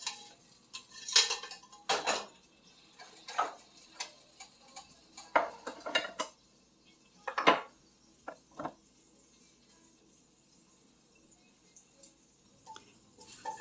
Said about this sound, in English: just remove them from the pot, and then just save all the liquids that are in there